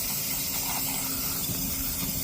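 Spray cleaner hisses steadily onto a dirty, oily machine, a loud continuous spray heard close up without pause.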